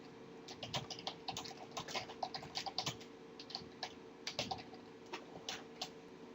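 Quiet, quick keystrokes on a computer keyboard as a sentence is typed, irregular clusters of close clicks over a soft steady hum.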